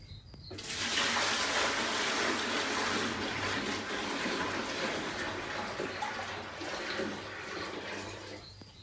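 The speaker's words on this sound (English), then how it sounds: "once all the water is taken out and all the fish, we have to refill it with water" Water pours steadily into an emptied fish tank during a water change, a continuous broadband rush that starts abruptly and runs throughout at a fairly even level.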